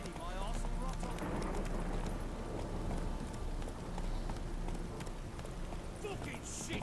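A horse gallops in The Witcher 3 with rain falling, its rapid hoofbeats drumming in a steady, close, continuous rhythm while a voice talks over it at times.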